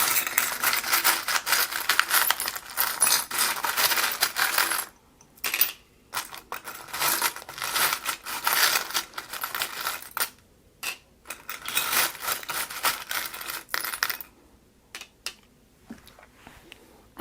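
Small tarot reading charms are handled and dropped, making a steady run of light, close clinking and rattling with a few short pauses.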